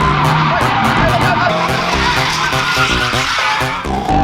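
A car being drifted in second gear during a first drifting lesson, the engine roaring steadily with long skidding tire squeals layered over it, close and loud throughout.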